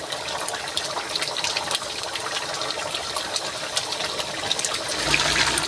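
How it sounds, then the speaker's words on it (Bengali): Leafy greens are tipped into a pan of softened vegetables cooking for a vegetarian chhyachra, giving a steady loud hiss and sizzle that lasts throughout with no talking. "সবজিগুলো নরম হয়ে আসছে আমি এবার শাকটা দিয়ে দিচ্ছি"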